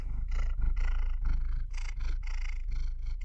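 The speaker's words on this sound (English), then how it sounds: "that purring sound is my cat Mio." Domestic cat purring up close, a loud rhythmic rumbling purr with regular breathing cycles, steady and continuous throughout.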